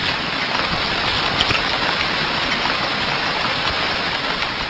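Steady rain falling in a dry desert landscape, a dense continuous hiss of drops at even loudness throughout, with no voices.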